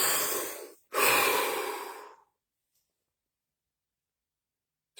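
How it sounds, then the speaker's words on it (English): A deep breath taken during a relaxation exercise, heard as a long, close, airy inhale followed by a fuller exhale, then silence. "Deep breath."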